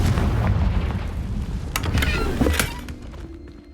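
A Confringo fire spell bursts in the Hogwarts Legacy video game, a loud explosive boom with crackling sharp transients rolling through a dense rumbling bed before tapering off into quieter room tone.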